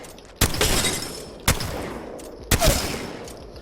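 Three evenly spaced, loud blasts from the Mastiff shotgun in Apex Legends, each a sharp report followed by a decaying tail, with no talking.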